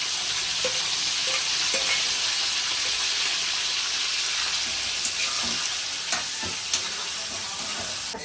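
Chicken liver fries in a pan with a steady, loud hiss and sizzle, close and continuous, with occasional soft scrapes and pops.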